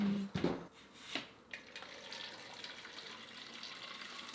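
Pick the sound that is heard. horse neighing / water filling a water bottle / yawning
water filling a water bottle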